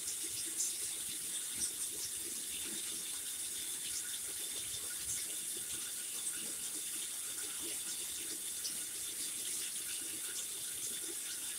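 Tap water running steadily into a sink to rinse a razor after shaving, an even close rushing stream with faint clinks and no talking.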